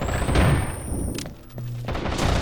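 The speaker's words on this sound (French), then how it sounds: "Enity qui lance une grenade en direction du couloir de la mort" A grenade thrown in Rainbow Six Vegas 2 during a LAN match: loud blasts and gunfire-like bursts fill the scene, with a dip in the middle before dense thumping resumes.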